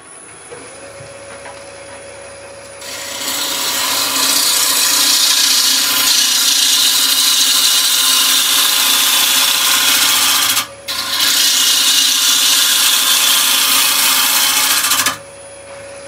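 A wood lathe takes a finishing cut on a bowl turned from scrap wood: a loud, steady rasping hiss over a constant motor hum, with one brief break partway through before it resumes and stops.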